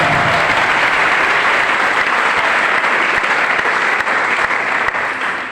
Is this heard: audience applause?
yes